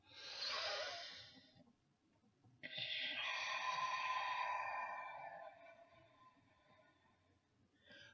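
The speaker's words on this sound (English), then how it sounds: "This is me breathing." A person breathing close to the microphone: a short airy exhale, a pause, then a longer drawn-out hissing breath that slowly fades, and a faint breath again at the end.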